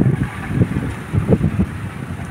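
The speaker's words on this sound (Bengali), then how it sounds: "অনেক বাতাস" Strong wind buffets across a farm field on a rainy, stormy day, a steady low roar with gusty rumbles close to the microphone and no voices.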